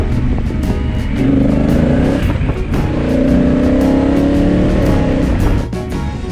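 A Honda Africa Twin motorcycle fitted with luggage trunks runs at top speed, its engine droning loud and close under heavy wind rush. The pitch holds steady with slight rises.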